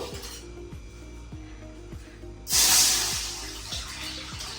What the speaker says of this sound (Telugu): ఇప్పుడు దీంట్లో నార్మల్ వాటర్ అయితే పోస్తున్నాను